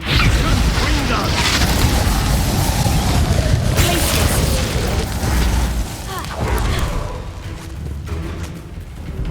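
Confringo blasting spell explosions in the video game Hogwarts Legacy, a dense, loud, roaring boom with crashing debris that fades toward the end.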